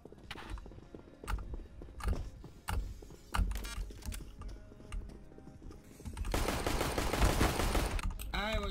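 Rapid gunfire from the video game CS:GO, a string of sharp bursts and single shots spread across the clip, with a denser, louder burst of fire near the end.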